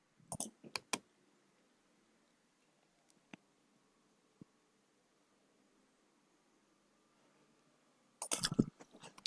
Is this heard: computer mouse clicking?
yes